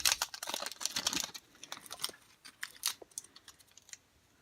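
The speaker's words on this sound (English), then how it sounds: "These are rough to open. They've been sitting in this plastic for a long time." Old plastic-wrapped 1993 O-Pee-Chee baseball card packs being torn open, a dense burst of crisp crinkling and tearing for the first second or so, then scattered lighter rustles and snaps close by.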